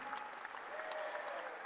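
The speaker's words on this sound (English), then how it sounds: "One more big round of applause for Ellis, Joey, Jack, Christian," A crowd at a men's college basketball game applauds the players, a short burst of fairly faint, steady clapping echoing through the arena.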